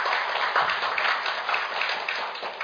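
A room of attendees applauds at a Korean parliamentary forum on the Fukushima nuclear accident as a lawmaker arrives. The clapping is dense and steady, filling the space at moderate loudness without a break.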